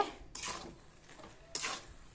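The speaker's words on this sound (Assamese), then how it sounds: "এইফালে নাৰিকল ভাজি থকা হৈছে" Two bursts of scraping and clinking of a utensil against a pan of roasting coconut, with quieter rustling between them, close by.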